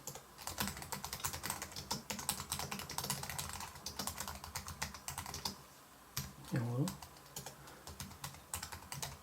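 Fast, steady clatter of keys on a Conectia W8 Bluetooth keyboard, moderately close, with someone talking quietly over parts of the typing.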